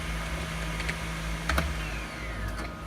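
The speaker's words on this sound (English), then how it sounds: "You have to type in exit." Typing on a computer keyboard at a 2004 Windows XP PC, a few scattered key taps over a steady background hum from the machine.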